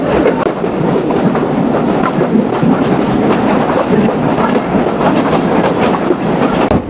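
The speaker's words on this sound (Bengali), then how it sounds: "এই যে দাঁড়িয়ে রয়েছে মংলা কম্পিউটার ট্রেন" The Mongla commuter train runs on the rails, a loud, close, continuous rumble with rapid clickety-clack wheel beats throughout and no voices.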